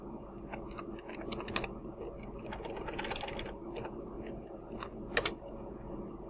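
Quick bursts of computer keyboard typing, close and fairly loud, with irregular clusters of key clicks and a couple of sharper hard presses, no voices.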